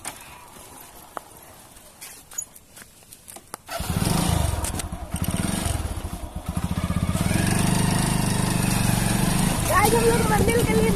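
A motorcycle rides along a road on the way to a temple, starting quietly and then droning steadily louder after a few seconds, with a rising engine note near the end.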